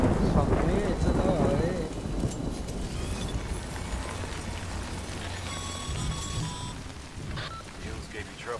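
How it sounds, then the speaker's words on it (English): Steady rain from the video game Death Stranding, a dense continuous hiss of falling drops with low rumbling beneath, alongside electronic tones and background voices. "Good thing it was raining."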